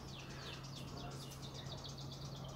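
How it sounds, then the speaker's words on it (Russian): Small birds chirp and twitter outside an apartment balcony in the Tosmur district of Alanya, Turkey, a steady run of quick, high, fairly quiet calls over a constant low hum. "там уже слышите, как поют птички"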